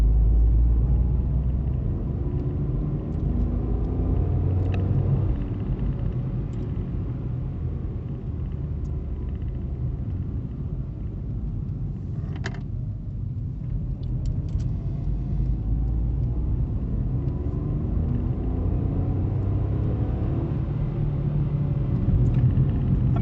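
A Ford Fiesta Trend 1.1 three-cylinder engine drones steadily while driving, a low continuous rumble with road noise, close by and without talk.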